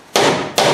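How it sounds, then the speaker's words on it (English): Two sharp hammer blows land on the thin edge of a southern yellow pine door in a wood shop, loud and close, spaced about half a second apart. "I don't like hammering on this thin edge."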